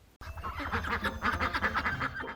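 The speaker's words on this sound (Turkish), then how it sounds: "Oo, ördek." A rubber bath-toy duck quacks repeatedly in quick squeaky bursts, close and fairly loud, with no talking.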